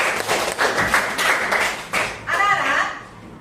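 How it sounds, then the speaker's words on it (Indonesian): Schoolchildren clap for a guest in an elementary school classroom, a dense burst of applause that swells and fades in waves, with a short voice surfacing near the end. "Oke, tepuk tangan buat Om."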